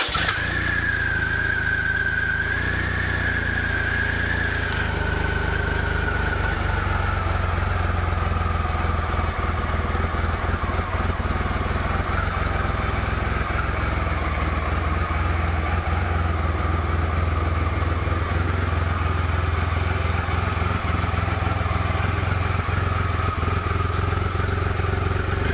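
A Triumph Rocket III motorcycle engine running steadily at idle, a continuous deep rumble that stays even and close throughout, with a whining tone near the start that slowly falls away.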